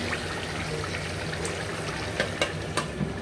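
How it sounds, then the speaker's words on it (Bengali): Meat sautéing in a pan on a gas stove in a home kitchen, a steady soft sizzle and crackle with occasional small pops, fairly quiet and unbroken, no talking. "এখানে যে মাংসটা কষানো হচ্ছে"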